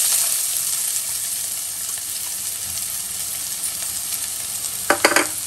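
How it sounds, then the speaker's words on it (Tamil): Steady loud sizzle of finely chopped onion frying in a pan until brown, with a few brief stirring clinks near the end. "நல்லா ப்ரௌனாக வணக்கிக்கிங்க."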